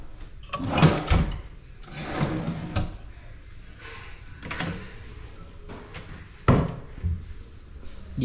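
Furniture drawers being slid open and shut several times, sharp knocks and sliding scrapes in a new house, close and irregular, with no talking.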